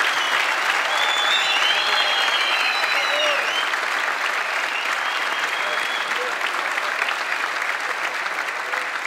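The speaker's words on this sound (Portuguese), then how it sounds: "uma salva de palmas para Miguel Sete Estacas" Steady, dense applause from a comedy show audience in the Algarve, a continuous wash of clapping holding at a loud even level for several seconds without a break.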